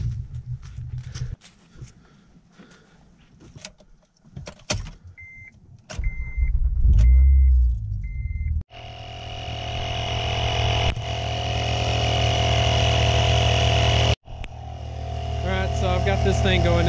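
A 2003 Ford Focus engine starts and runs, revving and idling loudly after some clicks and short beeps, with a brief cut near the end.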